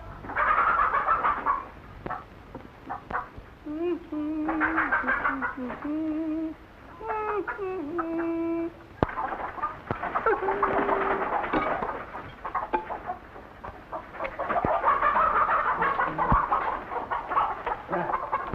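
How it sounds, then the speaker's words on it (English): A chicken clucks in repeated short bursts while being fed in a 1952 Abbott and Costello Jack and the Beanstalk film scene, loud and close, with someone speaking between the clucks. "Well, feed the chicken."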